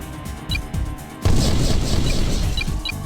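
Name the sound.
hostile vehicle destroyed in Heavy Gear video game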